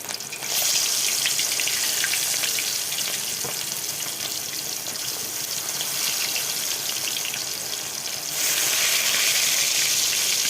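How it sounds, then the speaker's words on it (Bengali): Fish fry in hot oil for a Bengali dish, a dense steady sizzle that runs unbroken and close throughout, swelling louder near the end, with no voices. "তো বন্ধুরা এইভাবে লাল লাল করে মাছগুলো ভেজে নিচ্ছি।"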